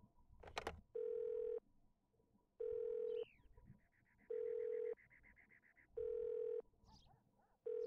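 A telephone rings on a call in The Sims 1 video game, five evenly spaced electronic rings with gaps between them, loud and alone over faint game ambience and a brief chirp.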